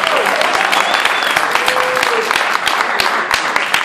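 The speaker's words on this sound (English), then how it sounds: "Let's give Reverend Rowe and Central Methodist one more applause." Loud, close crowd applause at a Detroit town hall meeting, honoring Reverend Rowe and Central Methodist, steady and dense throughout with crisp individual claps standing out.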